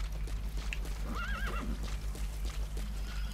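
A horse in the Metal Gear Solid V: The Phantom Pain video game whinnies once with a wavering neigh, close and clear, over steady clip-clop hoofbeats and game background noise.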